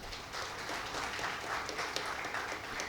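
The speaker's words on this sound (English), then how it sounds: "let's have a big round of applause for Pathik Patel" Audience applause at a food industry panel discussion as a panelist is welcomed: steady, dense clapping from a crowd filling the room for a few seconds, moderately loud with no talk over it.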